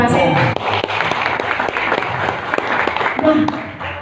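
A loud burst of audience clapping erupts at a gathering in Pemalang, a dense patter of many hands that holds steady before easing, with some voices mixed in.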